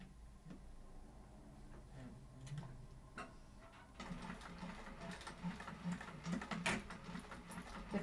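A sewing machine runs steadily on a short stitch length, following a line of stitching with a quick, even mechanical ticking that grows louder and busier partway through.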